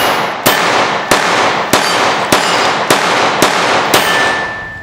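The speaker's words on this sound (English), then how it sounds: "it's not hard to shoot, even out of a small gun like this Ruger Officer's." A Ruger SR1911 Officer-style compact .45 ACP semi-automatic pistol fires seven loud, evenly spaced shots in quick succession, each crack ringing into the next with no talking.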